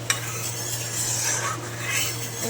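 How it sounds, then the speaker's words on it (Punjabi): Water is stirred around inside a burnt iron kadai to clean it: a soft, continuous swishing and scraping close by, opening with a single small clink. "ਇਸੇ ਤਰੀਕੇ ਨਾਲ ਹੀ ਹਿਲਾਉਂਦੇ ਰਹਿਣਾ ਤੁਸੀਂ ਲਗਾਤਾਰ ਇਹਨੂੰ ਪਾਣੀ ਨੂੰ"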